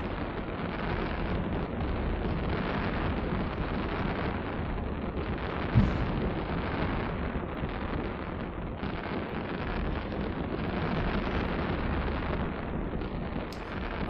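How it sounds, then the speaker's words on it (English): Fireworks in the space game Eve Online: a dense, continuous roar of overlapping booms and rumbling bursts, loud and steady throughout, with one sharper crack standing out midway. "So many fireworks."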